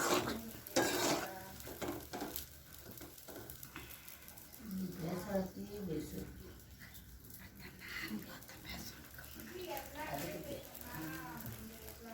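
Paneer gulab jamun balls bubbling and sizzling in unfiltered frying oil that foams up, a steady crackle under a woman's speech with occasional stirring clinks.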